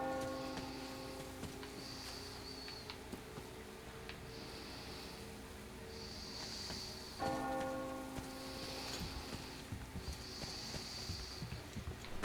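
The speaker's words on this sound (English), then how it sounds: "Do you hear that bell?" A bell in the video game Metro Exodus tolls repeatedly with a steady, sustained ringing tone that sounds somewhat distant, layered over a low ambient game background, with no talking.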